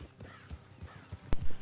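Horse hooves in the video game Red Dead Redemption 2 clip-clop in a few uneven steps nearby, ending with a louder heavy thud.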